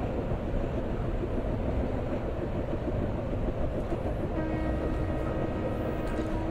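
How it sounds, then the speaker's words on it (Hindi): Kamayani Express train running on the Western Central Railway route in Train Simulator Classic, a steady low rumble with faint rail clatter throughout and a brief tonal hum in the latter half, no voices. "ट्रेन कामा यानी एक्सप्रेस हम चला रहे हैं WCR version 1 यानी western central railway version 1 root bye HR game world"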